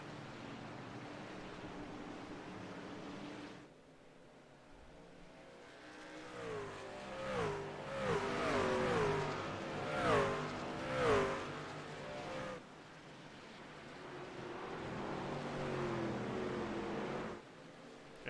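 NASCAR Camping World Truck Series race trucks roar past at Virginia, engines building to a loud, layered pass with rising and falling pitch in the middle, then a steadier drone of the pack continuing farther off.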